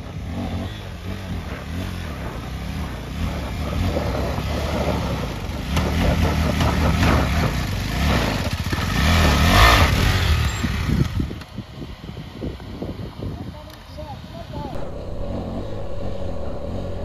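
KTM 390 Adventure motorcycles climb a rough off-road track near Umling La in Ladakh, their engines droning steadily and swelling as they strain uphill, then easing back with a brief drop, with no voices.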